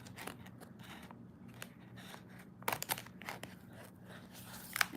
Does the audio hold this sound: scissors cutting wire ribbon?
yes